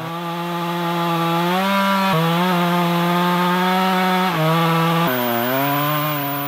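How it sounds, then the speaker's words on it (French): A chainsaw bites into a huge 41-metre fir tree being felled for a dugout canoe, its loud, steady engine whine dipping and rising as the cuts bear down, running close and continuous. "Quelques entailles à la tronçonneuse"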